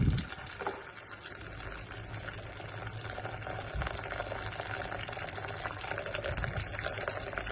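Water gushing steadily into a pot while homemade porridge is prepared for a six-to-eight-month-old baby, a continuous close splashing pour with a louder burst at the start.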